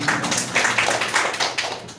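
Steady applause from an audience honoring a company director at a therapy outreach event, a continuous patter of hand claps lasting the full two seconds with no voices.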